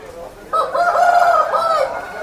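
Chickens and roosters at the Gokavaram village market, a rooster crowing loudly and close for over a second after a brief lead-in of faint background noise.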